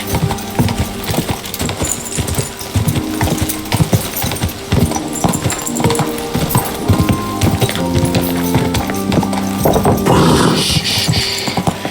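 Steady clip-clop of horse hooves trotting in the video game Kingdom Come: Deliverance 2, loud and continuous, layered over a busy mix of music and game sounds throughout.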